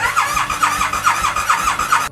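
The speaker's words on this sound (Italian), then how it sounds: "Faccio girare un po' il motore, vediamo se carica l'olio." A KTM 990 Adventure motorcycle engine cranks over on its starter without firing, a loud whirring with a steady rhythmic pulse of compression strokes that cuts off abruptly.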